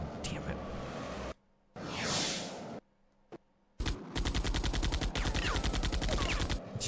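Rapid video game gunfire, bursts of loud shots broken by brief silences and then a sustained rattling automatic stream, close and dominant.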